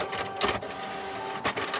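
Mechanical printing press clatter in a picture book setting, two short rhythmic thumping bursts a second apart over a steady hum, close and moderately loud with no voices.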